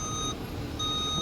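At a busy truck stop, a truck's reversing alarm gives two steady high beeps while it parks over the low rumble of engines close by.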